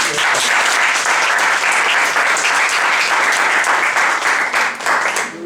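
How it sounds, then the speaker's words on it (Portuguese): Dense, loud audience applause fills a debate hall, a continuous wash of many hands clapping that holds steady and tapers slightly at the close. "Uma salva de palmas do PH."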